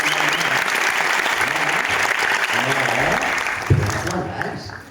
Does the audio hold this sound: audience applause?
yes